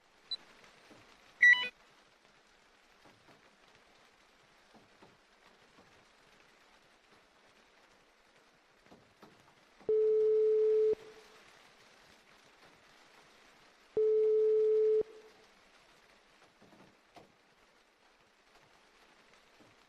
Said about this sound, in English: we need to make 2 phone calls